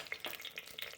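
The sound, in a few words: washed bay leaves crackling in hot oil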